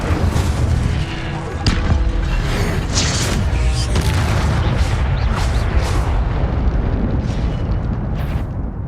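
Incendio fire spell bursts in Hogwarts Legacy, a run of loud whooshing, booming blasts and crackling impacts packed tightly together, repeated over and over amid dense combat noise.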